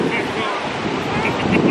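Sea waves at Kure Beach, North Carolina, a steady broadband wash of surf mixed with wind buffeting the microphone, loud and continuous.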